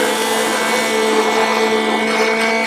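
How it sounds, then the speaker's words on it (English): An immersion blender whirs steadily as it blends Ketochow meal shake powder in a jar, a loud continuous motor drone with a high whine holding even throughout, with no talking. "give it another whiz with my immersion blender"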